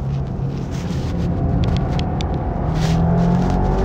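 Subaru WRX engine pulling hard on the Sentul circuit during a time attack with a full tank of fuel, a loud, steady rumbling drone heard from inside the car that builds slightly as it accelerates.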